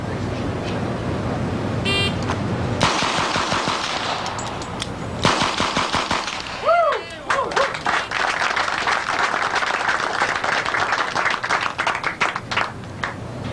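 Gunfire at shooting targets during a timed shooting run, rapid bursts of loud, sharp shots in quick succession, some rattling together almost like automatic fire, with short gaps between strings.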